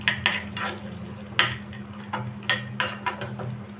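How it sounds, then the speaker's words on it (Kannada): Dry fruits frying in ghee in a small pan, a faint sizzle under a steady hum with repeated clinks and scrapes of a spoon against the metal, close by. "ಈ ಒಂದು ಚಿಕ್ಕ ಬಳ್ಳಿಗೆ ನಾನು ಇವಾಗ ಸ್ವಲ್ಪ ತುಪ್ಪ ಹಾಕ್ಕೊಂಡ್ಬಿಟ್ಟು ಇದಕ್ಕೆಲ್ಲ ಡ್ರೈ ಫ್ರೂಟ್ಸ್ ಹಾಕ್ಕೊಂಡು ಫ್ರೈ ಮಾಡ್ತೀನಿ"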